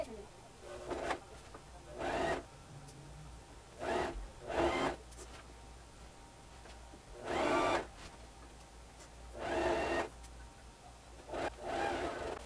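A sewing machine stitches a collar around a jacket neckline in short bursts of mechanical whirring, about six runs of one to two seconds each, separated by quiet pauses with faint background noise.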